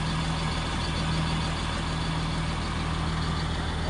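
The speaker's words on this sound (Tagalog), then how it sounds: "Ito po ang tamang tunog ng makina." A bulldozer engine idles in a steady, continuous low drone with a faint hum, even in level and fairly quiet, with no voices.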